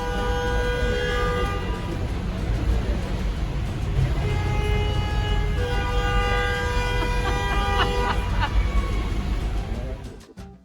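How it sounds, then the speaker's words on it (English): Car horns honk repeatedly amid dense, loud Rome street traffic, several sustained horn tones layered over a constant roar of engines and city noise, with a voice faintly audible underneath. "Not to mention the endless horn honking."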